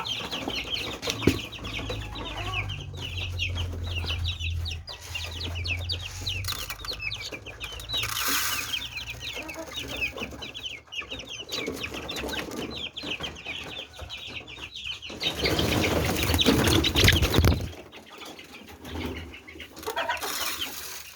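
Chickens cluck and squawk repeatedly nearby, with a brief rustle of wings and a louder burst of activity toward the end; no one speaks.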